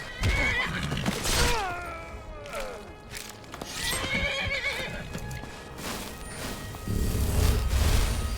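A Skyrim horse neighs loudly, a long whinny early followed by another midway, with hoofbeats and rumbling game sounds building toward the end.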